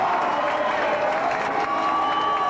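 A Keighley rugby league crowd roars and cheers steadily as the teams come out at an evening match, a dense sustained wash of shouting and applause with no break.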